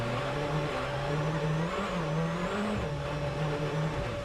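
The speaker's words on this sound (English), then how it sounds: "Even on those winter tyres, he's struggling for traction up the hill." A rally car on winter tyres at the 2013 Monte Carlo Rally struggles uphill on snow, its engine holding a loud sustained drone with wavering pitch as the wheels spin for grip.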